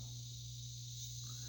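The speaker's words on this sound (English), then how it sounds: "just as I want to start speaking, the cicadas get louder" Cicadas drone in a steady, continuous high buzz with a sustained low hum beneath, unbroken and fairly close throughout.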